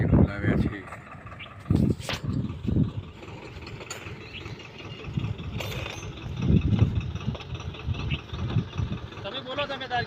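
Mini tractor engine runs while tilling a fennel field, a rattling mechanical clatter with uneven bursts and a steady idle-like drone, mostly under ongoing conversation nearby.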